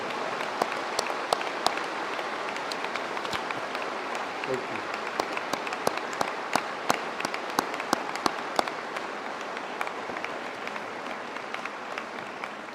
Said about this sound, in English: Please join me in a round of applause to recognize these special people.